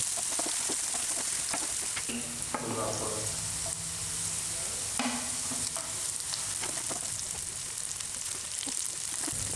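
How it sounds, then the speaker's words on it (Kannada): Chopped onions sautéing in a pan with bay leaf and spices for palak rice, a dense continuous sizzle and crackle with occasional stirring scrapes throughout. "ಆಮೇಲೆ ಹಚ್ಚಿದ ಉಳ್ಳಾಗಡ್ಡಿ ಹಾಕಿ ಬಾಡಿಸ್ರಿ."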